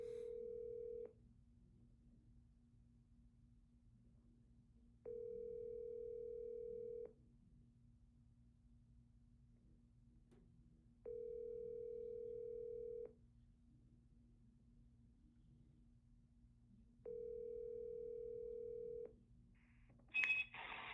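A telephone call rings out unanswered, four evenly spaced long ringback tones separated by silence over a faint low hum, followed by a brief click and burst as the line connects.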